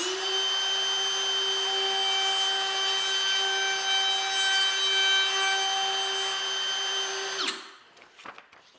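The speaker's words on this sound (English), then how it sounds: "this is where the router started touching it" A router bit cuts into a paper notebook clamped to a table, giving a loud, steady, ringing high whine that holds for about seven seconds, then stops abruptly and leaves a few light clatters.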